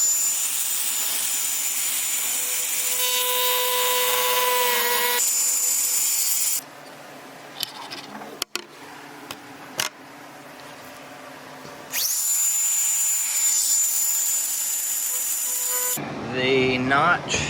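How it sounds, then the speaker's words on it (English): A grinding wheel cuts a notch into a boat lid for wiring, a steady loud whining grind with a tonal edge that runs for several seconds, stops, then starts again later. "I'm going to use this grinding wheel to make a notch"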